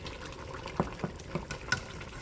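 Water goes into a pan of jollof rice cooking on a stove. Four faint, brief splashes sound over a low background hiss.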